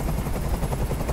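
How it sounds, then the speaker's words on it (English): A helicopter in the video game Detroit: Become Human gives off a loud, steady, roaring drone with a low rhythmic thrum. It fills the short moment on its own without speech. "Tell that helicopter to get out of here!"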